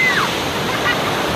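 Sea waves wash up a beach shore where children run from the surf, a broad steady roar of breaking water filling the whole moment, with a faint voice briefly heard over it.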